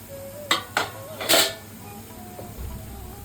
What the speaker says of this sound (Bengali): আবার আমি ঢাকাটা খুলছি